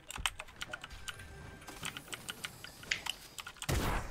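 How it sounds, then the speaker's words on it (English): Rapid clicking keystrokes on a computer keyboard during a Fortnite gaming session, fairly close and steady with bursts of faster taps, ending in a louder rumble of background noise. "what keyboard is that, bro?"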